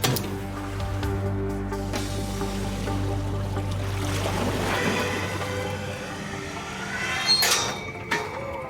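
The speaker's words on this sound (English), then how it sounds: "They hope the inrush of water to the empty box will drive the vortex effect." Water rushes into an empty box weighted with 200 pounds as it sinks, a loud churning low gurgle and hum lasting several seconds, then tapering into quieter splashes and sloshing.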